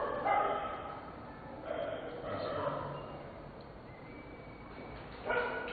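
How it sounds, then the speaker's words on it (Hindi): Dogs bark and yip in short bursts at a distance, faint under a steady hiss of background noise. "उनके आते ही जानवर भौंकना शुरू हो गए।"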